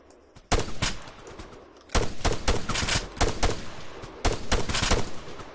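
Gunfire in the ArmA3 video game during a co-op match: loud, sharp bursts of rapid shots in three clustered volleys separated by brief pauses, close and dominant, with no speech.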